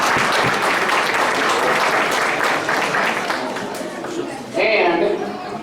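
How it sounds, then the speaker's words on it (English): An audience at a scout Arrow of Light ceremony claps steadily in a dense indoor round of applause that fades slightly, then a voice and a brief cheer break in near the end. "So give these guys a great round of applause for all their hard work this year."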